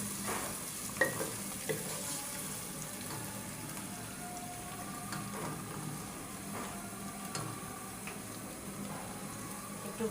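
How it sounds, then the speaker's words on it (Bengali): Mutton curry masala with ginger, garlic and green chilli paste fries and gets stirred in a pan, giving a steady soft sizzle with scattered scraping stirs and light clinks throughout, close and fairly quiet. "একটু ভাজা ভাজা করে নেব"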